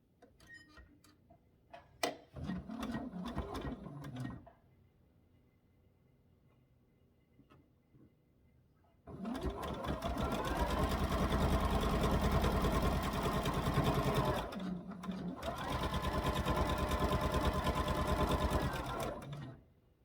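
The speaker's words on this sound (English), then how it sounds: "and then sew these together." A sewing machine stitches quilt units together for a Sugar Cookie quilt, running loud and steady in two long bursts with a short pause between, after some quieter handling sounds and near silence.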